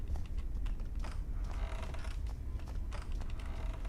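A door creaks open in the horror game Granny, several drawn-out squeaky groans rising and falling over a low steady background hum, fairly close and moderately loud.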